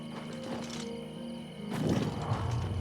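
A horse's hooves clop briefly in Oblivion Remastered, a few soft steps followed by a louder shuffling patch, with no talking.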